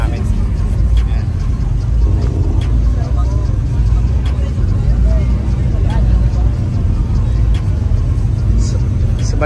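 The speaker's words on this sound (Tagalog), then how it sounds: "Papainit lang kami ng mga kotse namin." Cars idle and warm up at a car meet in the Philippines, with a loud, steady low engine rumble throughout and people talking over it.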